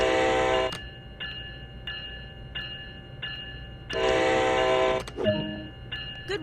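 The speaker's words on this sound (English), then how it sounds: "Use the horn to notify others around that this locomotive is about to start moving. Do this with 2 short blasts." A locomotive horn in Train Sim World, set on the NEC New York route, sounds in loud sustained blasts: one long, several short spaced toots, then another long blast, over a low engine rumble.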